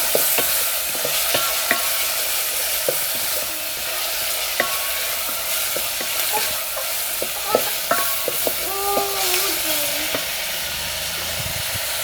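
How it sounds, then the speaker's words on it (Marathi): Finely chopped tomato sautés with garlic in a hot pan, giving a continuous sizzle broken by frequent sharp scrapes and clacks of a spatula stirring against the pan. "एक टमॅटो मी बारीक चिरून घेतला तर ते घालूया आणि चांगलं आपण परतून घेऊया"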